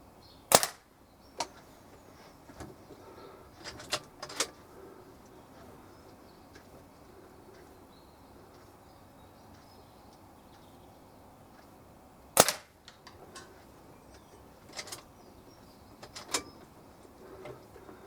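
Sharp, isolated cracks from a .177 air rifle, spaced irregularly with long quiet gaps, the loudest near the start and again about two-thirds of the way through, with faint softer snaps between them and birds cooing quietly in the background.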